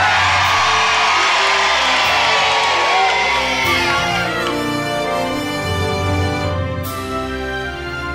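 A large crowd cheers and whoops loudly and continuously, a dense wash of voices with rising shouts throughout.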